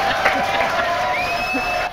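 A studio audience at a French television show claps and cheers to welcome guests, a lively burst of applause and whoops with voices mixed through it.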